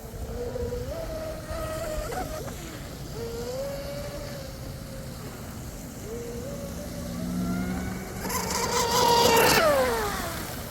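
A Proboat SonicWake V2 RC boat with a Firma 160A controller and Rocket 4082 1280kv motor whines past at speed, pitch rising and falling with each pass and swelling louder as it runs close at the end.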